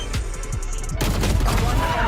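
Gunfire in a Valorant pro match at the VCT Americas League, with a couple of sharp shots cutting through dense match noise and crowd-like background.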